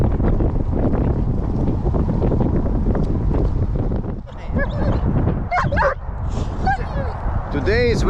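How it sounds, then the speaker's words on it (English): Strong wind buffets an outdoor airfield where a model airplane is about to fly, roaring as loud continuous broadband rumble for several seconds, then easing briefly while a dog barks and whines nearby. "Today is very windy day."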